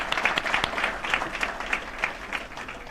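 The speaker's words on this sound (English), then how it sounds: "So just a round of applause for being here." Audience at a chamber of commerce candidates night applauds the candidates with steady, dense clapping that holds at a moderate level throughout, with no talk over it.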